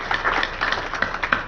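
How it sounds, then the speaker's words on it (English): Audience applause at a housing tools and strategies meeting, a dense, steady wash of many hands clapping together for a short burst, fairly close and continuous with no talk over it. "Round of applause."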